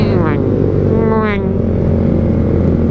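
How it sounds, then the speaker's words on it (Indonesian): Motorcycle exhaust roaring on the road, a steady loud low rumble with a brief rising engine pitch near the start, heard from close by during a ride toward a mountain area. "Cih, ini knalpotnya keren ya ini."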